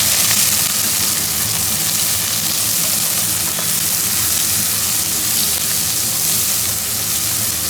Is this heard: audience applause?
no